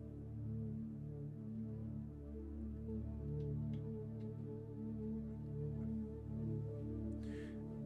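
Sustained synth pad patch played on a Novation Peak synthesizer with oscillator sync from oscillator 2, holding steady layered chords at moderate level throughout, with a brief brighter swell near the end and no voices.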